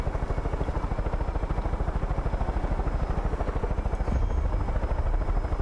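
Helicopter in the video game Far Cry 5, its rotor thudding in a fast, steady pulse throughout, loud and close, with a slight shift in engine tone near the end and no talking.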